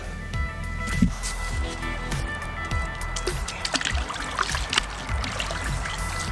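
Water in a hot tub trickles and splashes in small irregular bursts, close and moderately loud, with a few sharp knocks and sloshes among the dribbling.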